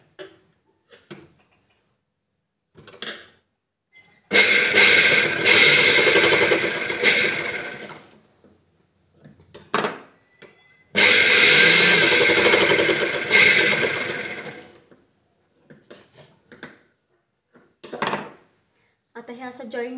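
A sewing machine stitching blouse fabric strips in two bursts of steady rapid whirring and clatter a few seconds each, with someone talking briefly between and around them.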